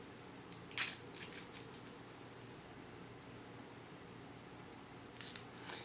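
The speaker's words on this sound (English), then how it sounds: "Let's go ahead and remove some of this plastic." Brief crinkly rustles of protective plastic film being peeled off a new diving watch come in two short bursts, near and quiet, with a faint hum in between.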